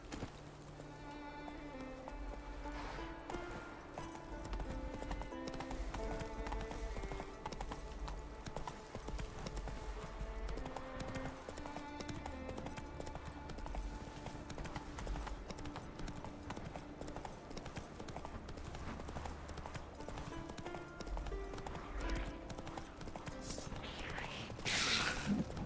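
Hoofbeats of Roach, the horse in Witcher 3, clip-clopping in a steady rhythm under game music and ambience, with an occasional creak of tack throughout.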